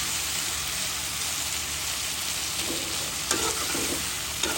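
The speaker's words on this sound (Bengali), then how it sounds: "হালকা ভেজে নিচ্ছি" Dried loitta fish fries lightly in a pan with a constant close hiss and crackle, with a few soft utensil taps near the end and no voices.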